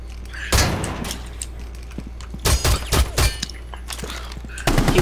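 Gunfire in the video game Rainbow Six Siege, bursts of rapid shots and thuds clustered in quick volleys, loud and close, with quiet gaps between the exchanges.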